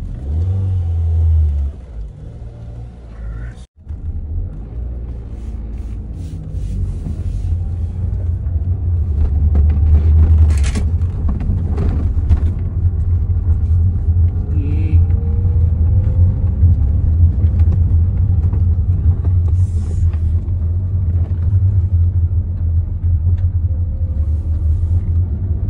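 A sports car in Fukuoka, Japan revs and accelerates with a deep, loud rumbling engine note that holds steady for over twenty seconds after a brief sharp knock, with no voices.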